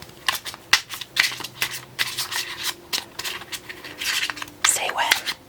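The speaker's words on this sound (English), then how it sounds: "We will mix these cards up a bit." Tarot cards are shuffled up close, with soft crisp riffles and rubbing slides in an irregular rhythm, quiet and intimate.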